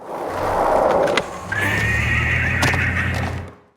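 A horse statue in the video game Skate neighs loudly in two bursts when bailed into, a rough whinny followed by a longer high-pitched one, with a low rumbling hum underneath.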